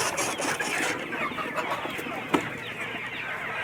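Chickens kept as future breeding stock cluck softly in a pen, a continuous murmur of fowl with one sharp louder peck or cluck partway through.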